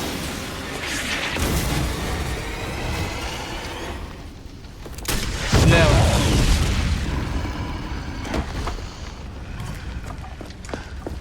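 A rocket launcher blast in the video game Resident Evil 3 lands midway as a heavy booming burst, set against rumbling game ambience before and after.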